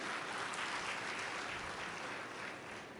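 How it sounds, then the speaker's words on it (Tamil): An audience at a motivational speech claps, a faint, even wash of many hands heard from a distance, holding steady throughout. "இது உண்மையாக இருந்தால் கைத்தட்டுங்க"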